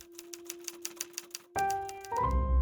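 Typewriter keys striking in a steady, rapid rhythm of crisp clacks, then a louder mechanical carriage sound with a rising tone near the end, typewriters used by a wartime ghostwriting office in a basement.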